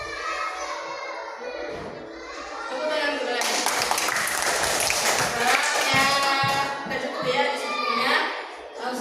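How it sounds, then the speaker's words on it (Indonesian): Children clapping together in a classroom, a broad burst of claps swelling midway and continuing alongside teacher talk and kids' voices. "Tepuk tangan dulu ya."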